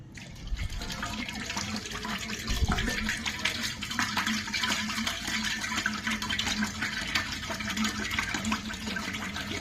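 Liquid pours steadily into a pot while homemade herbal hair oil is being prepared, making a continuous close splashing and gurgling rush for about ten seconds, with faint voices now and then.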